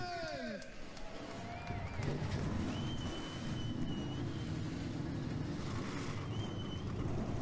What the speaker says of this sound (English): 42 engines crank up here at the Kentucky Speedway